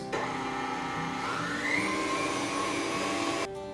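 An electric mixer whirs steadily through blueberry cake batter, a close, even motor drone that switches on abruptly, runs for over three seconds with a slight rise in pitch, then cuts off.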